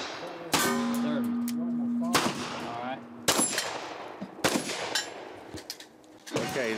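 Single-action revolver shots at a shooting event, a few loud sharp cracks spaced unevenly with ringing tails and metallic clangs from steel targets between them.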